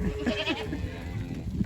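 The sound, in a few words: goats bleating at feeding time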